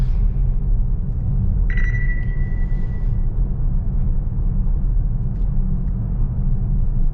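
Jeep Grand Cherokee 5.7 V8 rolling slowly through water, a steady low engine and road rumble heard from inside the cabin, with a brief tonal chime partway through.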